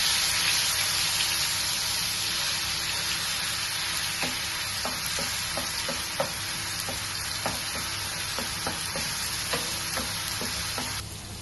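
Ginger garlic paste fries in hot ghee for a green chicken dish, making a constant close hissing sizzle with a steady low hum and irregular light clicks of stirring.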